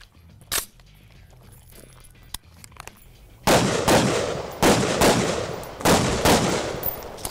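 Gunshots from a Stag Arms Model 3T tactical rifle ring out loudly in a quick series of sharp cracks, about six shots in a rough rhythm after a quiet stretch with a few faint handling clicks.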